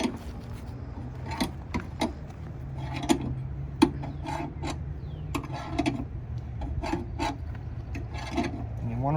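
A wrench loosens the lug nuts on a car wheel during a tire change, with repeated ratcheting clicks and rasping metal turns in uneven bursts, heard close against a steady background hum.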